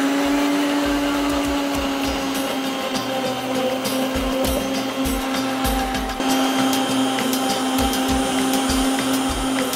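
An electric blender beats eggs with salt, pepper and thyme, giving a loud, steady high-pitched whirring motor drone that holds unbroken for the whole stretch, close up and alone.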